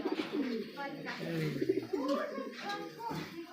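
Racing pigeons coo close by in a series of soft, throaty rolling calls, with a person talking in between.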